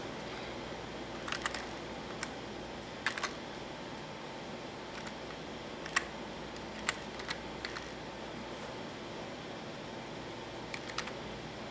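Keys tapped on a keyboard while a Windows 8 product key is entered during setup on an Asus EEE Slate EP121 tablet, with sparse, quiet clicks in scattered short bursts over a low steady room hum.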